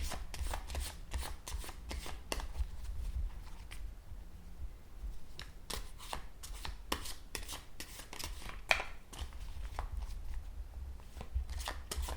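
Cards shuffled repeatedly up close, a continuous run of quick papery flicks and riffles with a low hum underneath.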